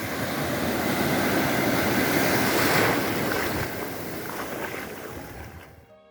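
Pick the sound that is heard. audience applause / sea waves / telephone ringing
sea waves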